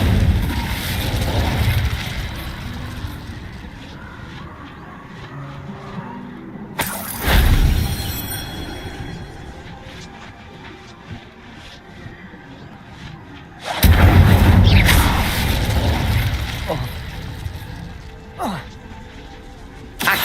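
The Incendio fire spell is cast three times in Hogwarts Legacy. Each cast is a loud, bursting whoosh about seven seconds apart, with quieter game sounds and rumbles between them.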